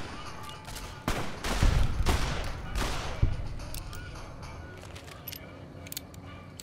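A burst of rapid gunshots in Fallout New Vegas, a loud cluster of cracks around the middle that tails off into quieter ambience.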